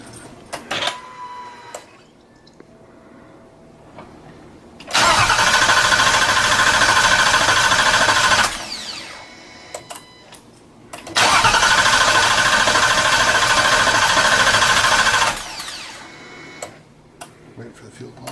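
A go-kart engine starts and runs loud and close in two roaring bursts of several seconds each, separated by quieter pauses with clicks and faint handling noise.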